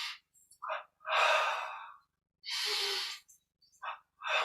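Deep breaths during a yoga breathing exercise: several airy inhales and exhales, some long and some short, close to the ear with silence between them.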